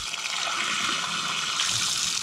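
A glass of water is poured into a cooking pot in a rural kitchen, making a steady, continuous splashing gurgle at moderate volume that swells slightly toward the end. No talking is heard.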